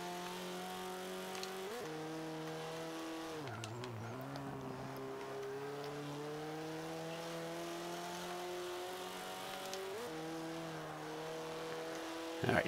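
An Xbow race car engine in Forza 5 drones with harmonic revving, dipping at gear shifts and climbing again steadily as the car accelerates, loud and continuous with no talking.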